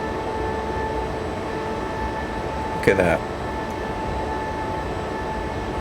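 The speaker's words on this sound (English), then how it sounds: "I like to hear the sound of the train" Train running in Train Simulator 2022, a steady low rumble with constant tonal hums throughout, under brief talk near the middle.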